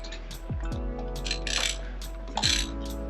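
A ratchet wrench works a spark plug on a Lincoln MKX, loosening and tightening it with close metallic clicking bursts, a few quick pawl ratchets spread over a steady low engine-bay hum.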